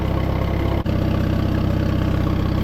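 An Allis-Chalmers tractor engine idles steadily after a cold winter start with the choke shut off, a close, even low rumble with a brief dip in the middle.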